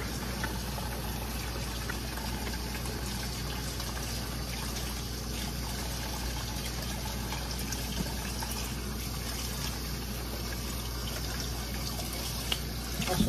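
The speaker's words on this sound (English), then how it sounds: "Wash my hands, y'all" Hands being washed under a running kitchen tap, with a steady, continuous stream of water splashing into the sink at close range with no talking, while chicken Alfredo, tilapia and garlic bread are being cooked late at night.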